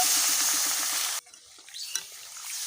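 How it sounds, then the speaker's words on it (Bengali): Rupchanda pomfret curry with pointed gourd and potato is stirred in a pan: a loud, dense sizzle stops abruptly, then softer close stirring scrapes and light clinks continue over a quieter simmer, with no voices. "আর খুব ভালোভাবে একটু নেড়ে নিতে হবে এইভাবে"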